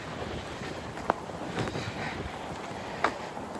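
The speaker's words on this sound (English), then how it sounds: "The wind is really blowing." Strong wind blows outdoors, buffeting the microphone with a continuous broadband rush that swells and eases, plus a couple of faint brief knocks. No one speaks.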